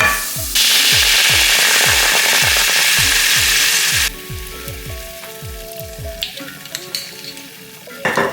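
Minced garlic and wine sizzling loudly in a pan for shrimp scampi, a harsh close hiss that drops abruptly to a softer bubbling sizzle with scattered clicks of utensils.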